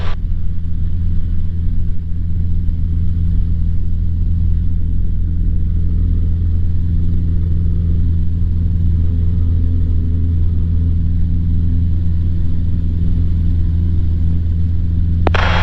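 A small experimental training airplane's engine drones at full throttle on the takeoff roll, a loud, constant low roar without a break.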